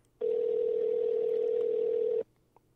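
A steady telephone dial tone sounds on a live radio show as the host calls a guest back. The tone holds for about two seconds and then cuts off into quiet line noise.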